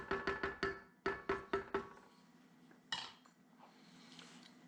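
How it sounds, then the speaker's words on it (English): A spoon scrapes and clinks against a pot holding a cheesy corn chowder soup base, eight quick rhythmic metallic taps in two groups, then a single knock and softer stirring, close and alone. "Give it a quick stir."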